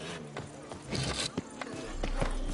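Hoofbeats of Roach, Geralt's horse, galloping in The Witcher 3: Wild Hunt, a quick rhythmic clip-clop under game ambience, fairly faint and partly masked by other sounds.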